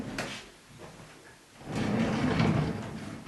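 A wooden kitchen cabinet drawer in a small tiny-house kitchen slides open and shut, with a soft knock followed by a longer rumbling glide, close by and fairly quiet.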